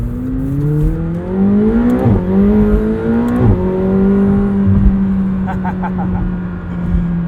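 A 2021 McLaren 720S coupe engine revving hard and accelerating from inside the car, pitch climbing and dropping sharply at two gear shifts, loud and continuous with some talk over it.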